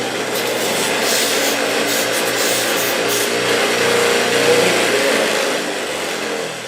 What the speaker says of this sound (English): I'll grind off any sharp edges off this stem with my grinder